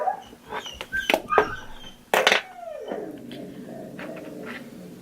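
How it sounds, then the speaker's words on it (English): A pet dog whimpers and gives a few sharp yips and barks close by in a home, with a drawn-out whine trailing off over quiet room noise. "Excuse my dog."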